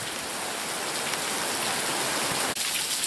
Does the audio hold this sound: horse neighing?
no